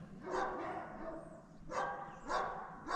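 Big, strong young dog giving a few soft barks and yips at irregular intervals, fairly faint and somewhat distant over low background noise.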